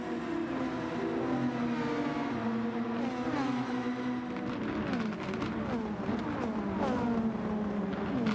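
A Super Formula open-wheel race car in the Gran Turismo 7 racing game brakes hard and downshifts, its high engine note stepping down through the gears in quick drops, steady and fairly loud with no talk.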